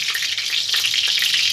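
Green chillies fry in hot oil, a steady close sizzle with fine crackling and spitting that holds evenly throughout, with no talking.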